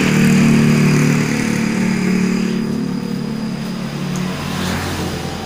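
A Honda CB 225 motorcycle with a 32 mm carburetor runs at idle close by, a loud, steady engine rumble with a slight rise and fall in pitch and no talking over it.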